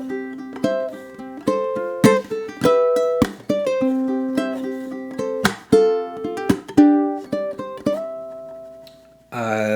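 Ukulele picking out bars 17 to 20 of a song as one continuous phrase, a steady run of plucked notes and chords up close. The last note rings out, then a brief burst of another sound cuts in at the very end.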